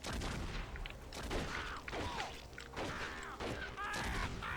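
Rapid gunfire in the Western video game Red Dead Revolver, repeated sharp shots at an irregular pace mixed with game effects, with a player talking throughout.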